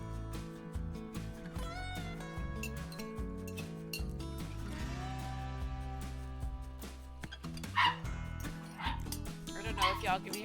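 A small white dog lets out a couple of shrill barks near the end, heard from nearby over steady background music.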